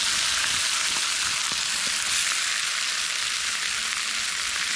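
Steaks seasoned and sizzling hot on a campfire grill give a loud, dense, continuous frying hiss with faint crackles, close and steady throughout, with no talking.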